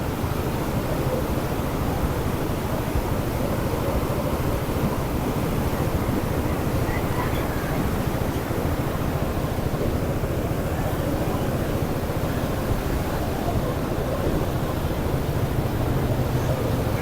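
Flood water of the Sutlej river rushes in a steady, dense roar, a constant broadband wash like heavy surf with some wind buffeting the microphone, unbroken from start to finish.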